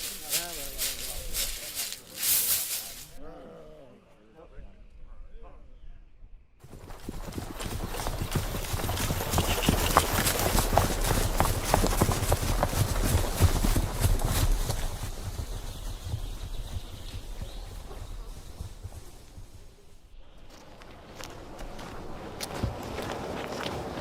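Horse hooves clip-clop steadily through most of the stretch as a sound effect, loud and close, with a brief pause early on and voices speaking before and after.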